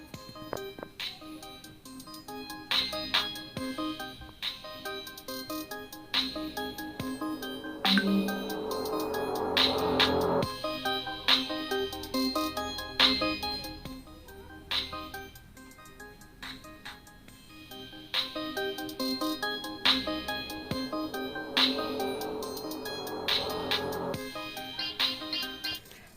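Music playing through a JETE Open Style sports headset held close to a smartphone microphone, thin and quiet with repeating plucked notes and a rhythmic beat over about twenty-six seconds, no one talking.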